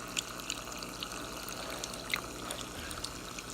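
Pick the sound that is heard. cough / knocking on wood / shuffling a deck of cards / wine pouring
wine pouring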